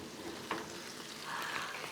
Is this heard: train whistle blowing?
no